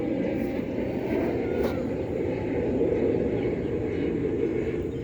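Airplanes flying overhead at a rose garden: a loud, steady broadband engine roar that holds through the whole stretch with no break, heard outdoors without any talking.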